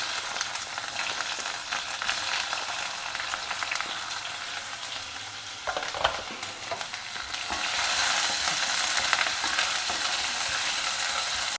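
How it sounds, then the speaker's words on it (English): Chopped onions fry in hot oil with mustard and cumin seeds, a steady close sizzle with stirring scrapes, the hiss swelling louder toward the end. "Add in the chopped onions."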